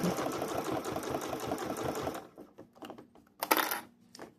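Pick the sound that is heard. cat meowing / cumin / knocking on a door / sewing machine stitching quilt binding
sewing machine stitching quilt binding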